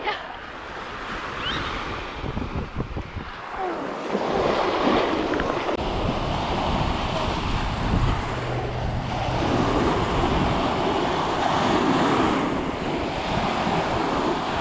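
Surf breaks on a Gulf beach at Pensacola, a continuous wash of waves with heavy wind buffeting the microphone and a surge building partway through.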